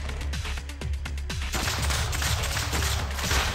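Nail gun firing rapidly in the video game Sanctum 2, a fast string of sharp repeated shots in the first half that blurs into a dense roar of continuous fire and impacts, loud and close.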